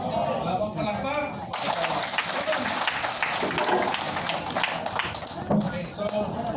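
Crowd clapping fills the space at an outdoor partylist gathering, a dense sustained burst rising after a moment of talk and holding steady until a voice returns at the end.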